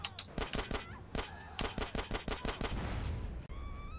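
Gunfire in the video game GTA San Andreas: a rapid series of sharp, evenly spaced shots in two bursts, followed by a fading rumble and a brief whistling tone.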